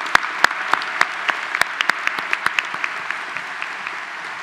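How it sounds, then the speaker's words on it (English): A small crowd at a BSBA graduation recognition ceremony applauds award winners steadily, with individual sharp claps standing out over a soft patter that gradually thins. "Please join me again in applauding all the achievements of our outstanding award winners."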